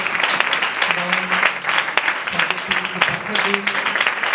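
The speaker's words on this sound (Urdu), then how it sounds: "سو آئیے ہم زوردار تالیاں شاگرد ٹیلی ویژن کے لیے" A church audience claps for Shagird Television, a lively, uneven patter of hands with some voices and a few calls mixed through it, fairly close and continuous.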